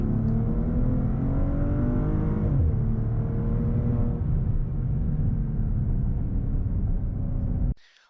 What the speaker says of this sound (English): You can listen to that engine note all day.